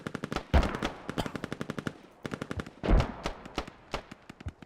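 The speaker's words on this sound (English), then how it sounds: "Les Cannon trying to shoot across." Automatic gunfire in a multiplayer shooter match, loud rapid bursts of repeated shots separated by short pauses, with a heavier blast now and then.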